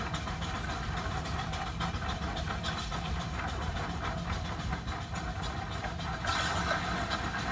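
An antique steam-driven veneer machine peels a log into long, thin sheets, giving a continuous loud mechanical rumble with a steady rhythmic clatter at even intensity throughout.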